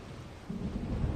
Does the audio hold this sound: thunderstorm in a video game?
yes